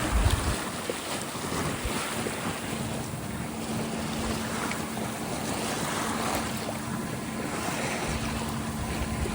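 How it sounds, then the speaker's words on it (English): A sailboat tacking upwind out of Newport, Rhode Island, with constant wind roar buffeting the microphone over rushing waves and hull wash, a steady dense noise that never lets up, no talking. "Tacking my way upwind again to get out of Rhode Island"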